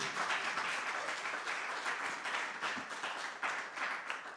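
A church congregation breaks into sustained applause, steady dense clapping at moderate distance lasting throughout with slight swells, no voices over it.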